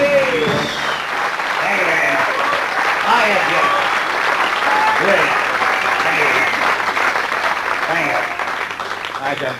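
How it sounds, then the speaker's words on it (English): A comedy show audience breaks into sustained, enthusiastic applause, dense clapping near and loud for nearly ten seconds, with some crowd voices mixed in. "That's the biggest dose of claps I've had for a long time."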